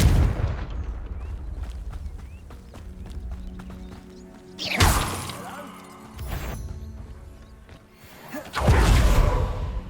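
Blasts from the Confringo fire spell in the Hogwarts Legacy video game burst three times at spaced intervals, each a loud booming impact with crackling debris, over a low ambient game background.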